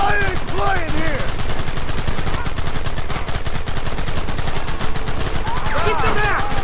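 Rapid gunfire fills a Red Dead Redemption shootout, with dense, crackling volleys of shots throughout. Shouted voices break in near the start and the end.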